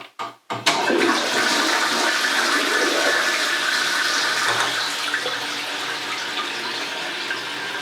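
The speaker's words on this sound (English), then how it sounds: "Let's flush." A newly installed low toilet flushes with a sharp click of the handle, then a loud rushing surge of water that slowly eases into a steady refilling hiss.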